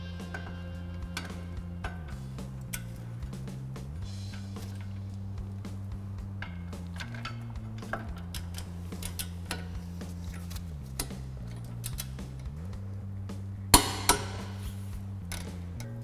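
A ratcheting wrench and then a torque wrench work the lower 17mm caliper bolt on a brake job: quiet, irregular ticks and small metallic clicks over a low steady hum, with one louder clack near the end.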